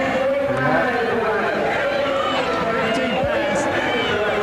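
A Memphis wrestling crowd yells and chatters for Randy Savage, a steady roar of many voices in an arena, with a commentator talking over it.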